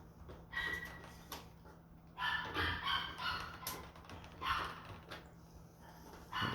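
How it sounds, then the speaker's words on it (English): A small visiting dog yaps indoors in several short bursts of sharp, high barks, fairly close, with quiet pauses between and no talking. "I have some dogs that are visiting, some family members that are visiting. And geez Louise, the little one, yap."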